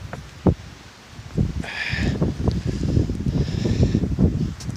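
Gusty wind blows outdoors on a cabin porch along the Vermont Long Trail, rustling and buffeting the microphone in low, uneven bursts.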